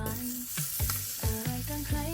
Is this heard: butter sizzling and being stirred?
yes